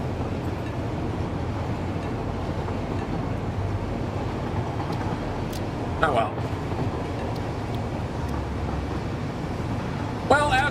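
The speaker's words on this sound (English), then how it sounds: "as we ride the train" A train rolling on rails in the video game Satisfactory gives a steady, dense rumble throughout, with a couple of brief clanks, and a voice briefly speaks over it.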